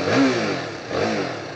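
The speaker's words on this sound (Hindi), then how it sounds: "ये 390 का स्टॉक एग्जॉस्ट है, इसकी आवाज़ सुनिए।" A BS6 KTM Duke 390 motorcycle on its stock exhaust, in road mode, revs twice up close: two loud, rasping throttle blips with a brief dip between them.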